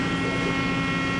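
A Mori Seiki NL-3000Y CNC lathe running its C-axis gives off a steady, dense mechanical hum with no talking, holding constant and fairly loud for about a second.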